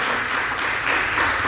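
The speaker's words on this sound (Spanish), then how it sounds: "Le damos una ofrenda de palmas a nuestro Padre Celestial." Church congregation clapping together in applause during a service, a steady dense wash of many hands close by, sustained throughout without speech.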